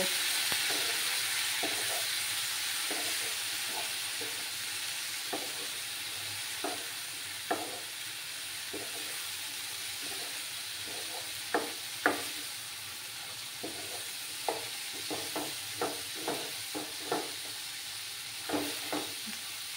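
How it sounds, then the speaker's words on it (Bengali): Spice paste with Kashmiri chili powder and a splash of water sautés in a pan, a low continuous sizzle and hiss punctuated by repeated soft scraping stirs that grow more frequent toward the end. "দিয়ে ভালো করে মশলাটাকে কষিয়ে নেব"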